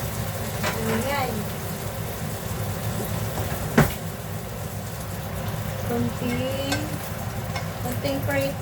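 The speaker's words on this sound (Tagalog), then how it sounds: "Konting prito." Sausages frying in a pan during home cooking, a steady continuous sizzle with faint crackles and one sharp clatter, under occasional soft talk.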